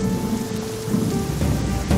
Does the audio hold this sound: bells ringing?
no